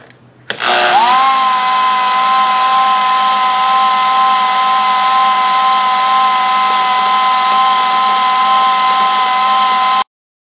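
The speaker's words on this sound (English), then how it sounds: "Use my old bandsaw again. Go ahead and turn your volume down. This thing is kind of loud." An old bandsaw runs loud and steady, cutting out a wooden handle, with a sustained motor whine and hum that starts up abruptly and holds nearly constant throughout.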